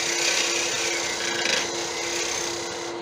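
Carbide tool cutting a cone shape into wood spinning on a lathe, a continuous close scraping rasp with a steady motor hum beneath, rising briefly in intensity midway.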